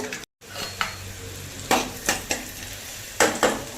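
Four garlic cloves fry in hot oil in a kadai for an Andhra-style peanut sesame chutney, with a low sizzle broken by a few sharp metallic spatula scrapes and clinks against the pan, preceded by a brief dropout.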